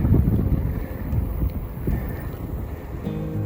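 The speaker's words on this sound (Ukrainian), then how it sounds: "Дуже сильний вітер в обличчя, так тяжко їхати." Strong headwind buffets the microphone of a cyclist riding in Saxon Switzerland, heavy, uneven gusts, a constant low roar with no speech.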